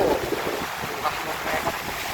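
Strong wind during a rainstorm roars steadily in gusty, broadband rushes, buffeting the microphone with a constant hiss and no voices.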